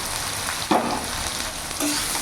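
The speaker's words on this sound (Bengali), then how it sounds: "পেঁয়াজ আর আলু একসাথে ভাজা ভাজা করে নেব।" Chopped onion and diced potatoes sizzle and fry in a pan, a steady close crackle with a couple of brief stirring scrapes, no voices.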